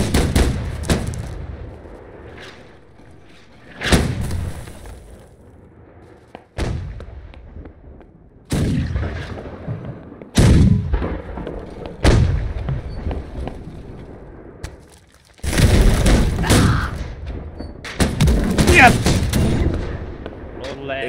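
Musket and rifle volleys crack and boom in a Holdfast: Nations At War line battle, single shots and bursts of several firing at irregular intervals, some near and loud, others distant, with players talking over them.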